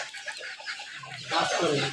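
Chickens on a small farm make soft, scattered clucks, ending in a brief, louder burst of calls.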